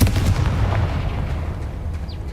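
A Confringo spell blast erupts in Hogwarts Legacy, a loud booming burst at the start that rumbles and decays over about two seconds, ending with a brief faint high whistle.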